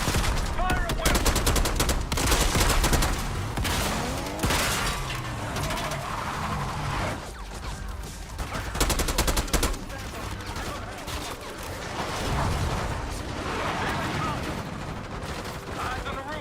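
Sustained automatic gunfire and bursts of shots in the video game Call of Duty Black Ops 6, loud and dense, with battle noise and brief voices mixed in.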